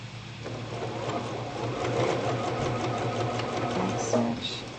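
A sewing machine runs steadily up close, back stitching a shirt cuff with a button extension, its motor hum and rapid needle clatter continuous and fairly quiet throughout.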